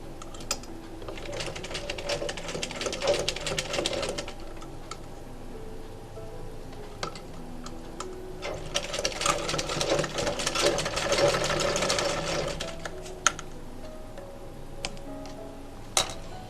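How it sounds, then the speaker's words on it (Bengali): Sewing machine stitching a cloth face mask, running in two close bursts of rapid, even needle chatter separated by a quieter pause, with a few sharp clicks toward the end. "তারপর সেলাইটা করব"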